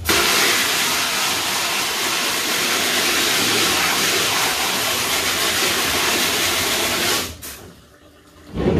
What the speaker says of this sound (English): Now water will actually kind of rinse it off.